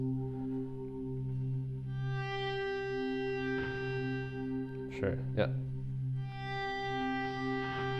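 Sustained distorted touch guitar notes with rich harmonics ring out over a drone, with brief spoken replies mixed in.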